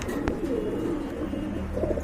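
Pigeons in a breeder's loft coo in low, throaty rolling calls that run continuously and close by, with soft fluttery background noise and no speech.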